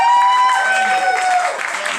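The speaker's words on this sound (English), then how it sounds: "Please, a round of applause." A stage audience claps to welcome a guest, the applause mixed with crowd voices and a bright whistle-like tone that fades as the clapping tapers off.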